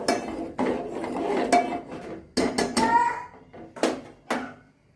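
Almonds are stirred in a metal pan while making vermicelli kheer, with a spoon scraping and clinking in uneven bursts against the pan, close and fairly loud with no talk.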